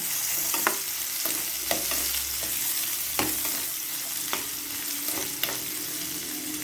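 Spices roast in oil in a pan over a low flame, a soft continuous sizzle broken by scattered clicks and scrapes of a spoon stirring, close and fairly quiet with no voices.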